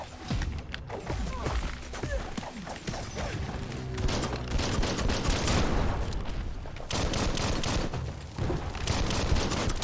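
Gunfire and booming impacts from the video game Biomutant, dense and loud throughout, with bursts of shots overlapping a busy mix of crashes and mechanical clatter while a player's voice occasionally speaks over the action.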